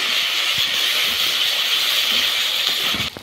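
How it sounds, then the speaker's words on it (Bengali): Spice paste with dry red chili powder fries in a pan for a begun basanti eggplant dish, making a steady close hiss that ends in a brief knock. "এবার মশলাটাকে ভালো করে কষাবো।"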